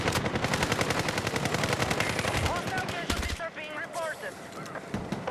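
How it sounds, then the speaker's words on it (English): Rapid automatic gunfire from a gun in the Battlefield 6 video game, a dense burst of loud close shots for about three seconds, followed by scattered game effects and a few more shots, with a voice briefly heard. "Oh, this gun is a beast."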